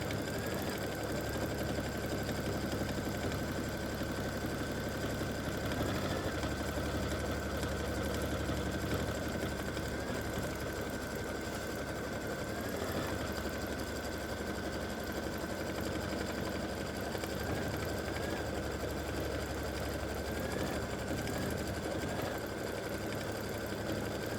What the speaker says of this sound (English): Color stop 7 is going to stitch out a satin stitch around both parts